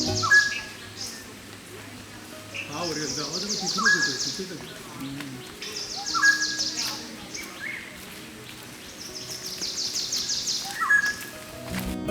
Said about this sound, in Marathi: त्याबरोबरच विविध पक्ष्यांचे मंजूळ आवाज